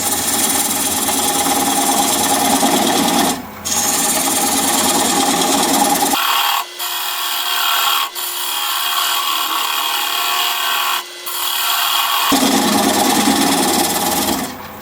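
A wood lathe at about 600 RPM turns an olive wood bowl while a 3/8 inch bowl gouge removes a tenon, making a loud, steady scraping whir. A few brief pauses break it, and one longer stretch turns quieter and thinner.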